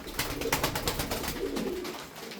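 Tumbler pigeons coo steadily and close by, a dense layer of overlapping murmuring calls from several birds, joined by a few brief rustles, with no talking.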